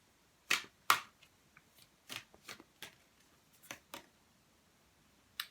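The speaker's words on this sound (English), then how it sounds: "I'm going to draw you one more card here." Tarot cards being drawn and shuffled from a deck, giving a series of crisp, close papery flicks and snaps in irregular bursts, with quiet gaps between them and no talking.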